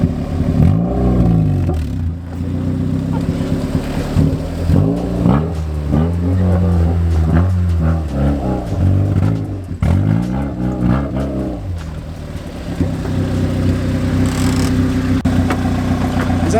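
A lifted Honda CRV engine revs repeatedly while crawling off-road, rising and falling in loud close surges over a steady idle drone.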